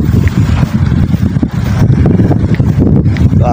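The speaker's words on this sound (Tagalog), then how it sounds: "Malakas yung hangin." Strong cold wind buffeting the microphone while walking around an open field park in New Zealand, a loud continuous low rumble with gusting surges.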